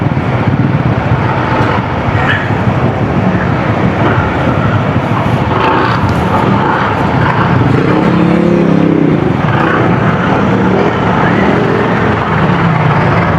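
Heavy road traffic crawls through a flooded street, a continuous loud rumble of car engines with occasional revving and a vehicle passing close, dense and unbroken throughout, with faint voices now and then.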